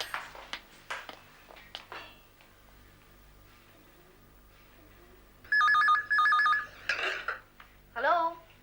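A landline telephone bell rings in short repeated bursts inside a home, clear and fairly loud, after quiet clicks and shuffling, with brief voices between the rings.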